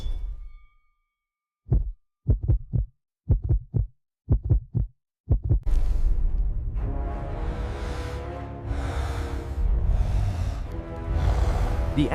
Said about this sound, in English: The axe's red glow intensifies, pulsing in rhythm with Kong's fading heartbeat